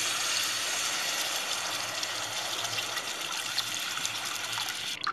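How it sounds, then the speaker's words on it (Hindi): Water is poured into fried masala to make gravy, a steady close rushing gush running for several seconds without speech. "अब इसमें ग्रेवी के हिसाब से पानी डालेंगे।"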